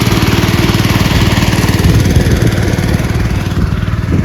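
A heavy tractor engine chugs steadily up close in a muddy rice paddy during planting, a continuous low, rhythmic throb that holds the same pace throughout.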